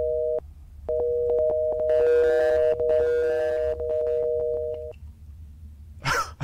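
An electronic phone ring from a horror video game featuring a mannequin demon, steady repeating tonal pulses with layered higher tones for about five seconds, then a short noisy burst near the end.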